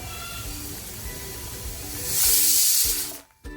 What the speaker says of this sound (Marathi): दोन ते तीन शिट्या झालेल्या आहेत कुकर